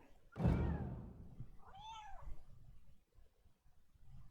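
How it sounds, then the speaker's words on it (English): A pet cat meows once, a clear rising-falling call a short distance away, following a brief thump, with quiet room noise around it. "This is my cat lady. She says hello."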